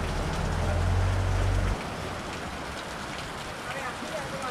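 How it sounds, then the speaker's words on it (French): Steady rain hisses across the whole stretch in Charlotteville, Tobago, with a low rumbling hum in the first couple of seconds that then drops away, leaving only the rain. "Et il pleut toujours."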